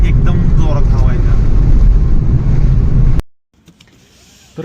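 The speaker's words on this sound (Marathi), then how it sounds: "लय जोरात वारं सुटलंय" Strong wind gusting beside a roadside on a highway road trip, a loud, heavy rumbling roar buffeting for about three seconds, then cutting off to near quiet, with a voice faintly beneath it.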